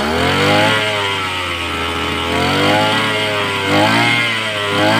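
A small petrol grass cutter engine runs after its carburetor has been cleaned and serviced, idling loud and close with a steady buzzing drone that swells slightly in pitch at moments, with no voices.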